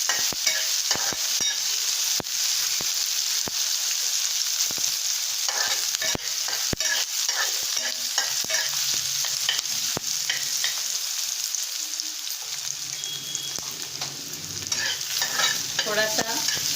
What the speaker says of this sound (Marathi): तेलात कांदा परतायचा आहे थोडा वेळ